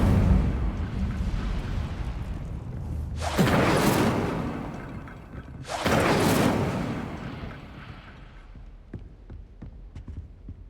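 Incendio fire spell cast in Hogwarts Legacy: two separate roaring, whooshing bursts of flame a couple of seconds apart, each swelling loud over a low background rumble, then fading into faint scattered clicks.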